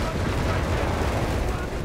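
An artillery barrage in the Company of Heroes 3 video game makes a dense, continuous roll of loud blasts and rumbling impacts, with a commentator's voice mixed into the din.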